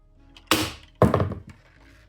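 Two sharp heavy impacts about half a second apart as a metal transforming toy robot is struck against glass, each a loud close thunk with a brief rattling decay, followed by a faint tap, with no voices.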